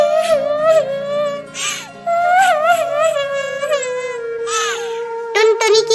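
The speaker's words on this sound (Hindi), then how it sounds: "टुनटुनी की रोने की आवाज सुनकर रानी चिड़िया वहाँ आती है" A high-pitched voice cries and whimpers in wavering, drawn-out sobs, close and loud, with brief breaks between wails.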